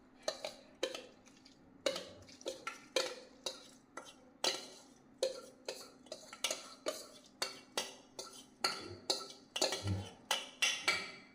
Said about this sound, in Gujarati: પાણી ઉકળ્યા પછી આ ચોખા દાળ નાખવાના